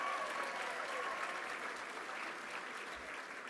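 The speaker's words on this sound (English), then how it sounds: "give Little Sims, our graduate, a big round of applause" A big audience at a University of West London graduation ceremony applauds graduate Little Sims with steady, dense clapping that holds at an even level throughout.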